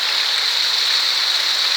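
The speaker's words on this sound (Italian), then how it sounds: "guardare quest'acqua che sale e poi cade nella fontana e sentire questo rumore dell'acqua" Water of the town square fountain in Piazza Giuseppe Garibaldi, Gemona, rises and falls back into its basin with a steady, continuous splashing rush, close and even throughout, with no voices.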